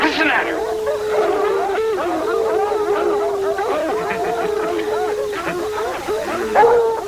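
Redbone and bluetick hounds bay steadily on a fox trail, a chorus of sustained, wavering howls and barks carrying from the woods at moderate distance, layered and continuous throughout.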